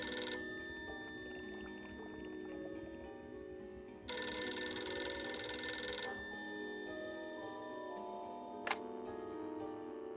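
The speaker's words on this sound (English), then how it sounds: "Ah, the phone." A telephone rings inside the Dracula 3 adventure game, a bright electronic trill that sounds in a long burst over soft ambient music and sound effects, followed by a brief second chime.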